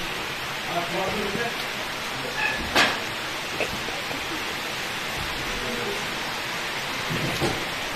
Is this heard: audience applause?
no